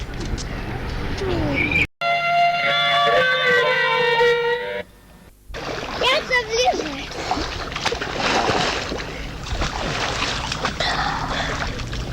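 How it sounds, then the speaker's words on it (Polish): Children play and splash in a lake during an evening museum event, with watery splatters and sloshing amid kids' voices. A brief burst of music cuts in early, and then the splashing resumes alongside nearby chatter. "Widzę, że tu dzieci bawią się, y, pluskają w jeziorze."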